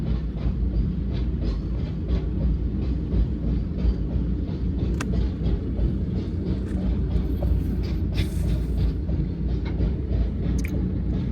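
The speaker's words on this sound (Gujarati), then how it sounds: "ઘણી લાંબી ટ્રેન હો ભાઈ." A long coal freight train rolling past a level crossing, its wagons producing a loud, steady rumble with rhythmic wheel clacks close by throughout.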